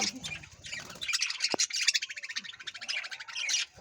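A home colony of pet budgerigars and Java sparrows fills the air with dense, overlapping chirps, squawks and tweets, a continuous busy chatter close by with no voices.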